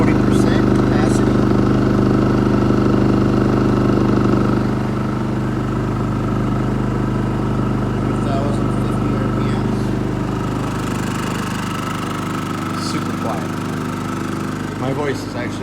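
An engine's exhaust runs at a steady idle, a low continuous drone that softens after a few seconds and keeps going beneath someone speaking nearby.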